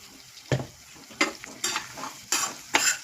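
Masoor dal fried in oil with turmeric, asafoetida, chili powder and salt is stirred in a pan: five or six distinct scraping strokes over a soft sizzle, close and fairly quiet.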